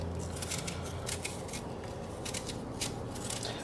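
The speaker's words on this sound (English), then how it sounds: "I find it easier to peel once I have a quarter of an apple rather than trying to peel the whole apple" A knife works through quartered apples as they are peeled and sliced for pie filling, giving repeated short scraping strokes over a steady background hiss, close and fairly quiet.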